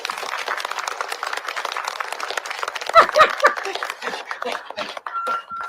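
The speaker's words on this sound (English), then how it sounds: "Clapping's a little loud." Audience applause fills the room in a steady, dense wash of clapping, growing uneven and thinning toward the end, with murmured voices mixed in.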